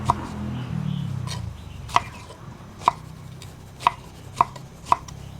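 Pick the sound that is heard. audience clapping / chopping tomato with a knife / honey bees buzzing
chopping tomato with a knife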